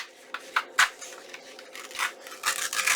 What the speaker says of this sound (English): I'm actually going to tear this